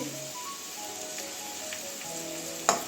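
Potato and pointed gourd frying in a pan make a steady, even sizzle close by, with a single sharp clink near the end.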